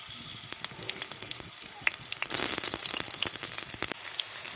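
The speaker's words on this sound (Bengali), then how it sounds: "তেলটা গরম হয়েছে, সেখানটা আমি পেঁয়াজ কুচিগুলো দিয়ে দেবো।" Chopped onions sizzle and crackle in hot oil in a wok, a steady bright frying hiss with small pops and spatters throughout, no voices.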